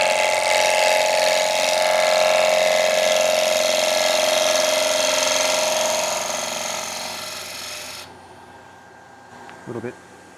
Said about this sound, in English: And we'll get stuck into some sanding.